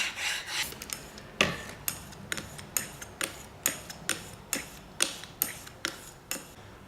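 Custom straight razor honed on an 8000 grit stone: a regular series of short, crisp strokes, each with a sharp onset that tapers off, close and fairly loud, with no talking.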